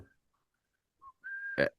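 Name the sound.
whistling a tune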